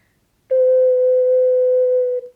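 A single low C, pure and whistle-like, from an ocarina, held steadily for under two seconds after a short silence, then ending cleanly.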